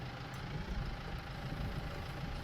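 Tractor engine running steadily on a grassy hillside during bale wrapping, a low, constant rumbling drone with no distinct revving, moderately quiet and uninterrupted.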